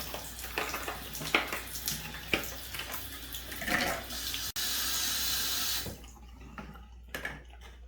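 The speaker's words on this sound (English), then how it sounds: "I'll let that run a little bit to let the bleachy water get to it" Tap water rushes through a shower head during a home water-softener job where bleach has been run through the plumbing, preceded by clicks and handling noises. The water is a steady, fairly close hiss that stops abruptly partway through.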